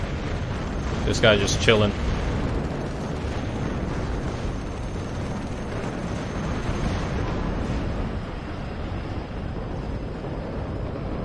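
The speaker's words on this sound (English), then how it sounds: "Napalm strike. That's the last thing we needed." Napalm strike explosions in the WARNO video game roll as a continuous broadband roar and rumble, loud and sustained throughout, with someone briefly talking over it near the start.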